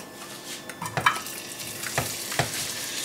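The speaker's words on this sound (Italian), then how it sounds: "Sentite come sfregola bene." Broccoli sizzles in a hot pan of soffritto with soft crackles and a few clinks and scrapes of a utensil stirring, close and steady.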